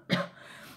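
One short, dry cough or throat-clear from a man, a single quick burst that fades into quiet room tone.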